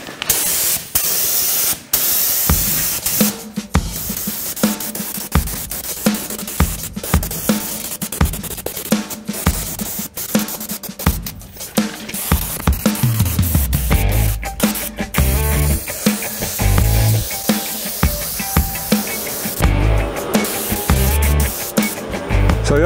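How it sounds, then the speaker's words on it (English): A cheap Harbor Freight-style spray gun sprays thinned paint for a fake patina finish, giving a loud, steady hiss broken into repeated bursts and short pauses, with no talking. "And into my cheap Barber Freight style spray gun we go."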